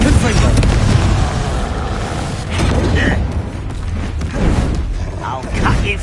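Spell explosions from Bombarda and Confringo in Hogwarts Legacy combat, a loud continuous churn of booms and bursts with cracking impacts, busy and layered throughout.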